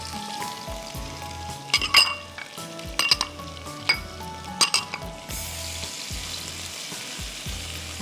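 Chopped garlic and ginger sizzle steadily as they fry in oil in a pan for a Gujarati curry, with a few clinks of a spoon against the pan and no talking.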